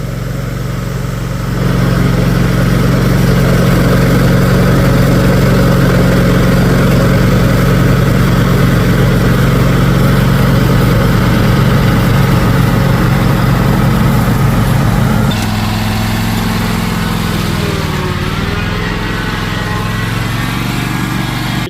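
A lawn mower engine runs loudly and steadily at close range during mowing, a continuous droning hum that shifts pitch and drops slightly near the end, with no voices.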